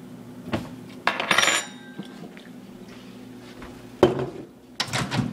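A spoon and fork taken from a kitchen drawer, with a few bright metallic clinks and rattles in short bursts separated by quiet gaps, close by.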